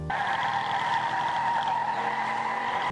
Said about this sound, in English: The roar of a Pontiac engine is not just a sound.